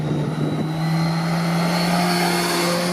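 A 2017 Kawasaki Z1000 SX motorcycle riding on a dry road, its engine holding a steady, smooth drone with a sustained tone that rises slightly, heard close and continuous with no talking.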